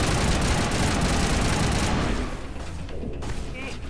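Dense, sustained gunfire in the sci-fi shooter Mass Effect Legendary Edition on Eden Prime, a loud continuous fusillade of rapid shots that eases off after about two seconds, with a voice speaking over it.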